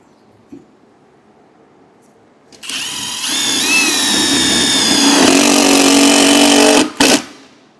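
A power drill drives a screw into a dock corner bumper, whining up in pitch and holding a loud steady buzz for about four seconds before stopping with a brief final burst.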